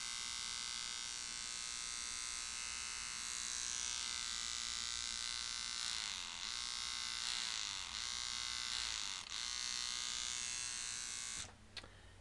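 A small Eagle electric motor with a 13 mag running at 2.5 volts gives a steady, high-pitched electric whine close by, holding constant for about eleven seconds before cutting off.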